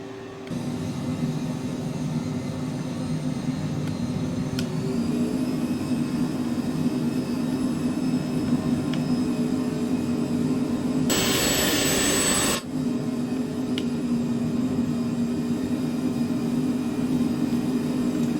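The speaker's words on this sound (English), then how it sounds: "get our parking brake off, and we're going to start taxiing" A private jet taxiing in Microsoft Flight Simulator produces a steady, loud engine drone and whine, with a brief burst of hiss partway through, continuous and without talk.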